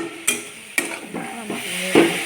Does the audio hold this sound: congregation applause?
no